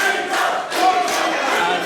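Wrestling arena crowd cheering for Peter Miller at a DKW British rules match, a loud, steady roar of many voices with swelling shouts throughout.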